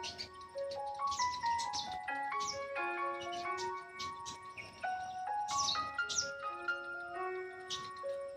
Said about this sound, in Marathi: वरती चिमण्या ओरडतात छोट्या छोट्या